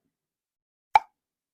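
Lid of a canned jelly jar popping as it seals: a single faint, sharp plop in otherwise near silence.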